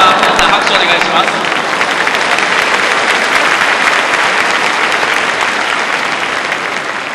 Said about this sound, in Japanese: 入ってたということであれば、皆さん拍手お願いします。